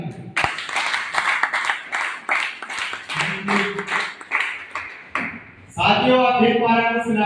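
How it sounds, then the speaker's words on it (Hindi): Audience at a Safe Shop network marketing training seminar claps steadily and loudly for several seconds, with a brief lull before a fuller burst of applause and cheering voices. "तो साथियों नेटवर्क मार्केटिंग के लिए बहुत दमदार और जोरदार तालियां"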